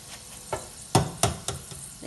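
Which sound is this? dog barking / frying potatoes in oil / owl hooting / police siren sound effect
frying potatoes in oil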